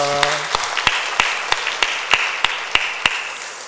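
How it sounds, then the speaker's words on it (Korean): A church congregation claps during a Sunday worship service as a low wash of applause, punctuated by sharp, evenly spaced rhythmic claps close by, after a brief held tone at the start. "박수로 격려하겠습니다"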